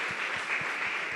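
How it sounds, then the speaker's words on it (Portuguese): Church congregation applauding together, a steady wash of many hands clapping that fills the space evenly, with low thumps pulsing underneath and no talking over it. "Dá um aplauso para ele,"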